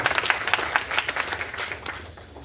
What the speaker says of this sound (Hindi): आदेशित करें एक बार ताली बजा करके।